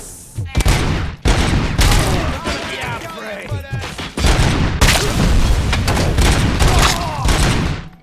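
Rapid gunfire in the RoboCop: Rogue City video game, loud repeated shot bursts in quick volleys with game voices mixed in.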